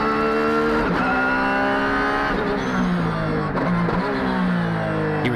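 An ARTA Honda NSX race car on used tires lapping Tsukuba circuit, its engine loud and close, revving hard with rising and falling pitch through repeated gear changes and lifts.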